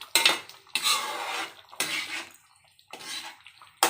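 Crab pieces dropped into a pot of boiling crab curry, giving several loud bursts of splashing, sizzling and clattering against the pot, each lasting about a second, close by, with no talking.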